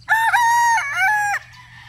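A Boston Black rooster crows once, close and loud, a long rising and falling call that breaks briefly midway and fades into a softer tail.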